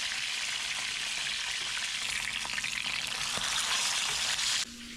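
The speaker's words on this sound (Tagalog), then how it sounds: "So, prito po muna natin tilapia." Tilapia sizzles and crackles steadily in hot oil, a bright continuous frying hiss that cuts off abruptly near the end.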